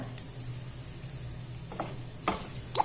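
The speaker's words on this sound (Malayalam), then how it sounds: "ഒന്നും കൂടി നമ്മുടെ സവോളയൊക്കെ ഒന്ന് വാടിയതൊന്ന് ഇളക്കി കൊടുക്കുകയാണ്" Wilted onions are stirred in a pan for potato masala, a faint steady sizzle with a low hum, and a few brief spatula scrapes and clinks toward the end.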